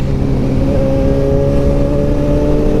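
A motorcycle engine revving on a Sunday breakfast ride, a loud, close, sustained drone holding a steady high pitch throughout, with no voices over it.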